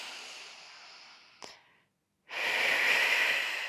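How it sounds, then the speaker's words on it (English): A long, airy exhale during a slow Pilates floor stretch, soft and close, broken by a brief sniff-like catch, a short quiet pause, then a stronger steady breath out. "Breathing it all out."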